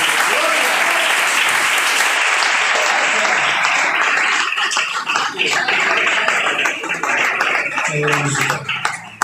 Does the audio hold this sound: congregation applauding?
yes